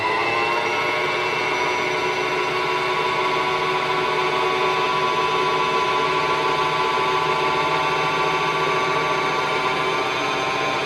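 A Singer Tradition 2277 sewing machine motor whirs steadily while winding a bobbin, a close, continuous mechanical drone with layered hum tones, unbroken throughout and no voices.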